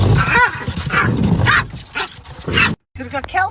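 A dog barks and yips in short, loud bursts mixed closely with a man's excited speech, the barks clustered over the first few seconds and ending with a brief break near the end.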